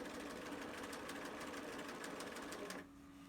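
A sewing machine stitches a small fabric face mask with a fast, steady mechanical chatter, close up, then stops abruptly near the end, leaving a faint hum.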